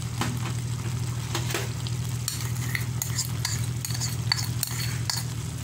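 Lasagna sauce seasoned with Italian seasoning and salt being stirred in a pan, a steady low simmering sizzle running throughout with scattered scraping and clinking of the utensil against the pot.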